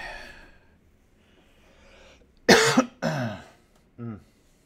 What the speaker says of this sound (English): I cough right into the mic.